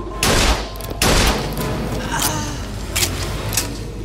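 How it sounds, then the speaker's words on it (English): Gunfire in the BioShock Infinite: Burial at Sea Episode 1 department store, with two loud close bursts near the start followed by fainter, scattered shots over steady background noise. "She was shooting at me."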